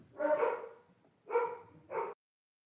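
Dogs barking excitedly indoors at someone arriving home, three short close barks in quick succession with a brief gap after the first, then silence.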